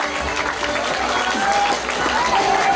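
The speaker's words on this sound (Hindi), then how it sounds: "भरपूर तालियों में बताएं कि आपको मुनीर जाति और उसके साथियों का ड्रामा कैसा लगा?" An audience at an annual function in 2019 applauds a drama performance with sustained, dense clapping from a crowd, loud and continuous, with some voices mixed in underneath.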